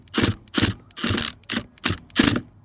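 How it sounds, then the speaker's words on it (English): An impact driver with a socket bit adjusts the hand brake on a Ford Ranger 4x4, firing six short, loud, ratcheting bursts in a quick, evenly spaced rhythm. "all I've got at the minute is just this impact driver with a socket bit on it"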